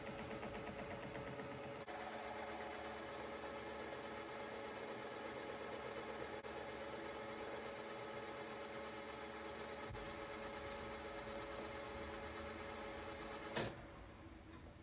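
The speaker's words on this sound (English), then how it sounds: "Then I change cutters to machine the diameter." A motorcycle carburetor for a Kawasaki Z1 1600 V8, lightly gripped in a lathe chuck, has its diameter skimmed with fine cuts, giving a steady close machine hum and whir that runs unbroken, with a brief sharp tick near the end.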